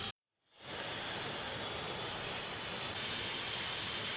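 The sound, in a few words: milk tea with jaggery boiling up in pot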